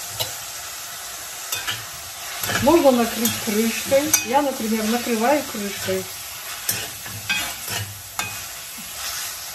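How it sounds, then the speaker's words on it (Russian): A pan of meat and jusai (garlic chives) sizzles steadily and loudly nearby while a person talks over the frying. "И все пусть жарится."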